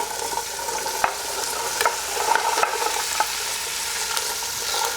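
Chopped vegetables hit hot oil in a soup pot with a steady, moderately loud sizzle, broken by sharp clicks and scrapes of stirring.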